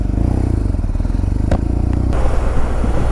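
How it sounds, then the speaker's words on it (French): A GS motorcycle engine runs close by with a steady, throbbing idle rhythm, broken by a brief clatter and scrape midway before the engine note carries on. "on est parti pour l'essai de ma nouvelle moto"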